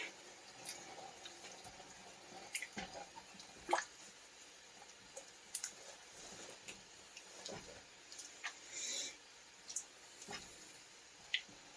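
Homemade chili being mixed thoroughly in a pot, soft wet squishes and irregular clicks from the spoon, quiet and close, with no talking.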